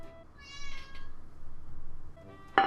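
Two clear meows from a domestic cat close by, one long drawn-out call early on and a short sharp one at the end, in a kitchen where sourdough is being rolled out.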